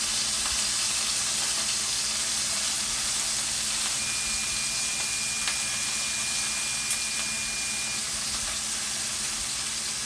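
Thick pieces of chicken, beef and pork frying in a pan, a steady close sizzle and hiss with faint pops throughout.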